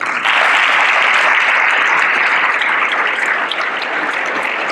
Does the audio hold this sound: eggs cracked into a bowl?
no